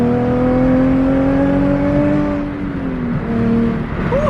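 A Nissan 350Z with a newly installed aftermarket exhaust revs steadily nearby, its engine note rising and holding before dipping slightly and picking back up, loud and continuous with no talking.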